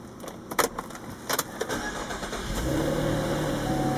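An automatic car is cranked and its engine catches, with keys jangling and a few clicks first, followed by a brief starter whir and then a steady idle that settles in close by.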